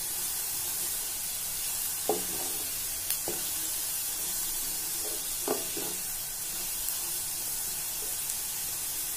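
Garam masala and other spices frying for soya pulao make a soft, steady sizzle and hiss, broken by a few faint scraping knocks as the mixture is stirred in the pan.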